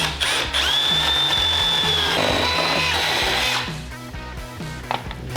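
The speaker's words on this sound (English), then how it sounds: "Now we've got those holes drilled" Power drill boring holes for a door bracket on a Honda Talon 1000X-4 during a lower door install: a loud, steady, high-pitched drilling whine that runs for several seconds, then drops off into quieter rattling and handling noise.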